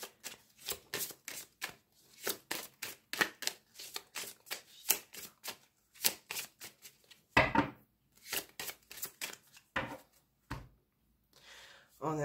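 Tarot cards being shuffled and drawn, with rhythmic crisp riffling bursts and slaps of cards, close and clear, broken by short pauses, with a little speech between.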